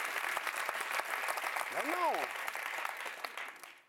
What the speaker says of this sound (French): Applaudissez pas ça